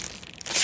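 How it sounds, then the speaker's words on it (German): A bag of potato chips is torn open in a radio drama, a brief crinkling rustle less than a second long that swells at the end. "Jakob hat eine Tüte Chips aufgetan."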